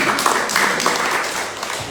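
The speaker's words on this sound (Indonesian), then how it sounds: "Tepuk tangan buat Bu Iis" An audience claps for a woman named Bu Iis: a couple of seconds of fairly loud, busy applause with slightly uneven bursts and no voices heard over it.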